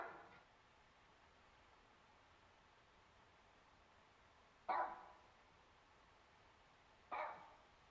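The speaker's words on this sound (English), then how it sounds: "Sounds a lot like a little dog." In woodland at night, a small dog-like animal gives two short, sharp yips, a few seconds apart, distant and faint over steady background hiss.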